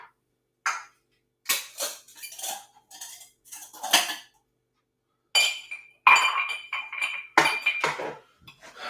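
Ice cubes clink and rattle into an old-fashioned glass in several separate bursts, bright close glassy knocks and jingles with short silent gaps between.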